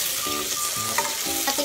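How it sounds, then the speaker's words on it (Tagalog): Potatoes frying in hot oil until golden brown while preparing chicken curry, with a steady, close sizzle and some stirring sounds throughout. "ipiprito lang natin siya hanggang sa mag-golden brown"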